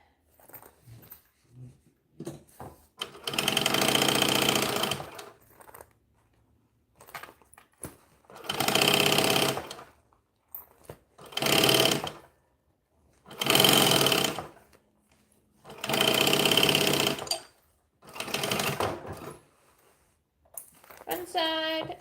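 A sewing machine stitches in six loud, close bursts of a few seconds each, separated by quiet pauses with small handling noises and faint whimpering from a dog.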